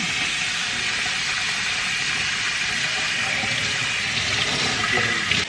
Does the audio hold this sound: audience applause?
no